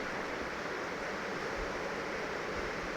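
Water poured into a pan of bitter gourd cooking on the stove makes a steady, soft rushing hiss that holds evenly with no voices.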